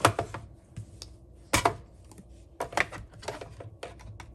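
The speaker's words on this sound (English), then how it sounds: "get my Stampin' Cut and Emboss machine, my plates," Stampin' Cut and Emboss machine with plates and a die cut in an embossing folder, being cranked through. Close clicks and clunks come in irregular bursts over a quiet room, and no one speaks.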